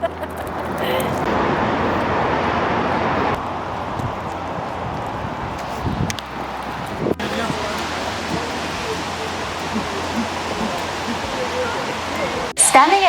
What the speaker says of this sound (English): So that's the top of the waterfall and we are in the parking lot.